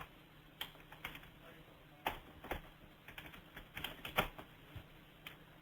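Someone types a search on a computer keyboard, producing scattered, irregular key clicks over about five seconds, faint and close, with quiet pauses between bursts.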